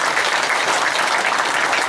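Applause from a seated lecture audience: brisk, dense clapping from many hands, loud and sustained at an even level for about two seconds.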